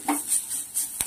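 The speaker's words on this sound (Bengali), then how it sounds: "এই যে দেখো বিট ভাজা করছি" Beetroot fries in a pan as a utensil scrapes and clinks against the metal, over a light hiss of hot oil, in short bursts close up.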